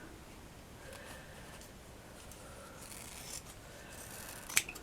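Scissors trim folded craft material into a rough circle for a flat-back bauble, giving a few quiet snips and rubbing sounds, ending in one brief sharper snip.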